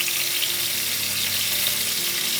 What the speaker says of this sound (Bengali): একটু সময় নিয়ে ভাজতে হবে পটলটা